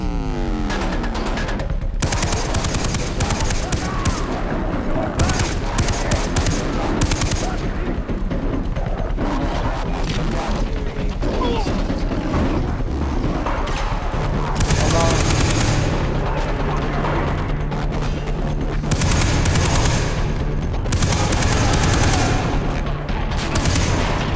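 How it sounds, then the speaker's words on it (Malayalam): Sustained machine gun fire in the video game Far Cry 3, loud and nearly continuous rapid bursts over a dense battle din, with booms and other game sounds layered in. "ഇവിടെ എൻ്റെ മെഷീൻ ഗൺ റീഫിൽ"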